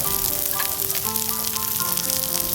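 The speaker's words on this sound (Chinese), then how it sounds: "我们炒到烧辣椒的香味出来，然后放200克的洋葱" Roasted chili and onion stir-fry in a wok, a steady loud sizzle and crackle that keeps up without a break, with no voices over it.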